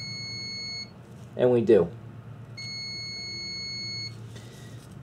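A continuity tester sounds a steady electronic beep while its probes touch terminal 1 of the harness connector for an EVAP pressure sensor. It sounds in two long, loud tones with a short spoken phrase between them.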